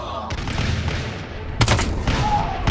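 Gunfire and explosions rattle through a TABS battle: scattered muffled shots and thuds, then a sharper burst of loud cracks and booms near the end, with a voice talking over the fighting.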